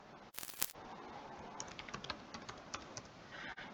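Typing on a computer keyboard while entering data into an Excel spreadsheet, with a loud burst of fast keystrokes near the start followed by scattered lighter key clicks, close and alone without talk.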